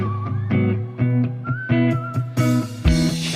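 Whistled melody from a song recording, a clear wavering tone gliding over a full musical backing with voices and instruments, steady and prominent throughout.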